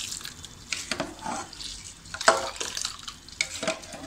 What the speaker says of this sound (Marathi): आता मी त्याच्यामध्ये हे तांदूळ शिजायला टाकते.